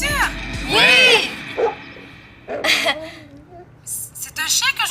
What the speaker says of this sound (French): C'est un chien que j'entends?